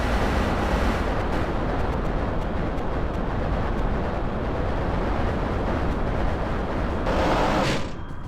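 Rockets firing from a heavy weapons fighter in Kerbal Space Program, a loud, continuous roaring blast with dense crackling rumble, cutting off abruptly near the end.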